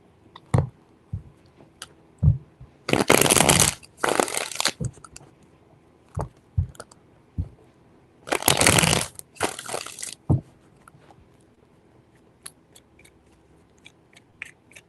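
Tarot cards are shuffled in two bursts of quick riffling, each a few seconds long, separated by soft taps and handling sounds.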